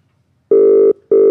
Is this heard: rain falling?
no